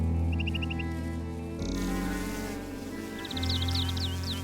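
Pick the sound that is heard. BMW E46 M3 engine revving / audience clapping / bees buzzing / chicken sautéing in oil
bees buzzing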